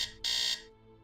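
Electronic alarm in the Nancy Drew game Secret of the Scarlet Hand sounding at 10 a.m. as two close, loud, high-pitched tonal beeps, the second longer, fading out after about half a second.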